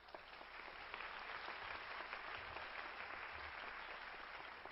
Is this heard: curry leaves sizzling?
no